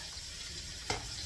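Vegetables sizzling in a hot pan for a creamy bean and sausage soup, a steady, fairly quiet hiss with one brief stir-like scrape near the end, no talking.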